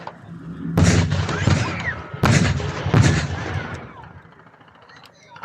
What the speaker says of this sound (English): The Allied artillery definitely got the range there.